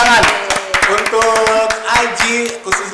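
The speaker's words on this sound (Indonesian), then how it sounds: "Terima kasih dulu tepuk tangan untuk Aji" Audience applause for Aji Kota Ambon at a public talk on preventing hoax news in Maluku, a steady burst of clapping mixed with a voice speaking over it throughout.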